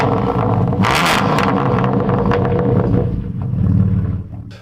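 Tuned car with an Armytrix exhaust and 695 horsepower roaring loudly close by, a hard rev burst early on, then a sustained deep rumble that swells again before cutting off.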